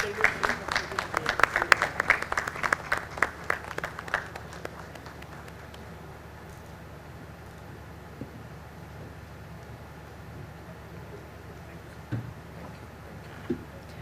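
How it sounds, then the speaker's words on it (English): Audience applause at a conference technical session on startups, loud scattered clapping for about five seconds that fades out, followed by a long stretch of quiet room tone with a few faint taps. "A round of applause, audience."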